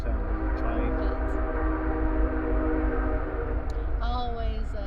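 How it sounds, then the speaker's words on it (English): A train passes near a cemetery, with a steady low rumble throughout and a brief horn-like tone near the end; someone speaks quietly at moments. "I like the sound of the train."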